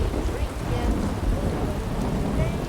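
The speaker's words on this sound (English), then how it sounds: "Thunder is so loud." Thunder rolls low and steady under a continuous hiss of heavy rain in a video game, filling the whole stretch with a dense, even wash of storm noise.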